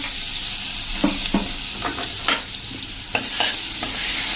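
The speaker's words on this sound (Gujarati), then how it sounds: "આ પેસ્ટ એકદમ આપણે સરસ તેલમાં કૂક કરી લેવાની છે" Spice paste for chickpea curry sizzling loudly in hot oil close by, a constant bright hiss broken by several scraping stirs of a spoon, with no talking.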